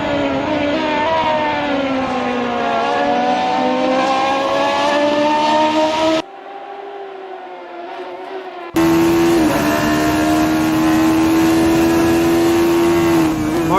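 Race cars speed around the South Dakota circuit at a Caribbean Motor Racing Championship round, engines whining loudly with rising and falling pitch as they pass, with a quieter stretch in between.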